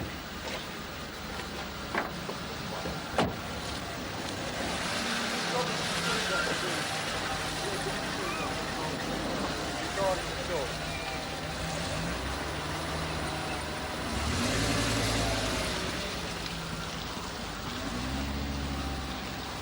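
A police car engine idles with a low, steady rumble as passengers sit inside, while people talk over it and a few soft knocks and shuffles sound nearby.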